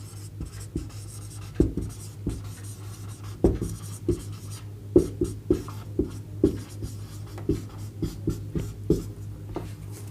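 Chalk or marker taps and strokes on a board during a physics lesson, a steady irregular series of sharp close ticks over a constant low hum, with no talking.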